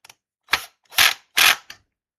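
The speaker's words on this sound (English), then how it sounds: "Put them all in there." Screws driven into a PC motherboard during a compact Ryzen 5 workstation build, three close, rasping bursts of screwdriver turning, each lasting a fraction of a second, plus a few faint clicks at the start and end.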